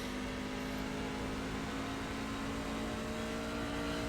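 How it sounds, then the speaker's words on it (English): Constant engine roar of a Class C race car in iRacing at Phoenix with a steady humming whine of tires scrubbing underneath, unbroken and loud throughout, no talking. "Trying to minimize that tire scrubbing noise we're hearing."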